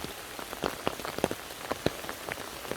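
Heavy rain pouring down outdoors during a rainy harvest outing, a dense steady hiss with many sharp close drops pattering on a surface, no voices.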